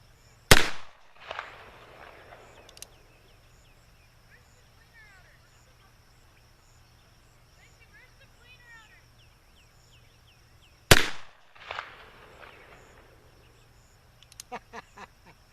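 Two loud, sharp Remington New Model Army revolver shots ring out outdoors several seconds apart, each with a short echoing tail, while birds chirp faintly in the quiet between them.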